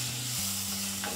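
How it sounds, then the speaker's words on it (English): Chopped tomatoes frying in a pan with browned onions, a soft, steady hiss of sizzling, faint and distant-sounding, with a low continuous hum beneath and no voices. "To this, I'm going to add these chopped tomatoes"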